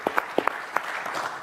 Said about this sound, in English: first of all, let's give him a round of applause.